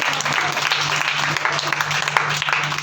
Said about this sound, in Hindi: चलो भाई, इनके लिए ताली बजाओ सभी पीछे वाले